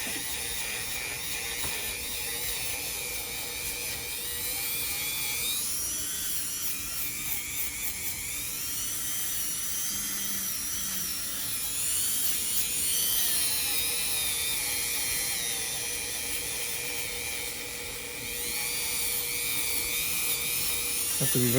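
A Dremel rotary grinder whines steadily and high for a long stretch while sanding thick, leathery skin on a foot, the continuous buzz wavering slightly in pitch with talk faintly underneath.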